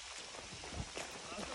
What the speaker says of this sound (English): The rains are coming down hard.